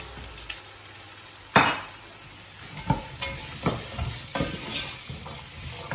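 Carrots being tipped onto onions frying in a pan for a peas-and-carrots dish, a soft sizzle broken by a sudden loud burst as they land, then repeated stirring scrapes and clinks over a continuing crackle.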